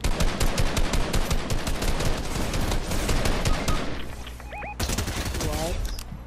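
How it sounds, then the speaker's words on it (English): Rapid gunfire from an enemy on a mountain in Fortnite, dense bursts of loud sharp shots in quick succession, with a brief lull then more shots and a short electronic tone near the end. "There's somebody sitting on the mountain shooting at us."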